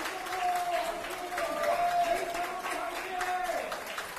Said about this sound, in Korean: 축하의 박수 부탁드리겠습니다.